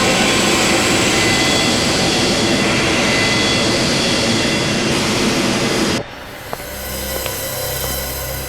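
Airplane engine in flight, a loud steady jet roar that abruptly drops after several seconds to a quieter cabin hum with faint clicks.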